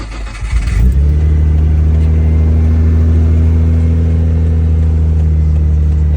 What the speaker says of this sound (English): Here's the cold start.